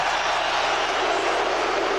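Baseball crowd at the Metrodome during the 2002 ALDS Game 3, Oakland at Minnesota, roaring and cheering in a loud, dense, unbroken wall of sound.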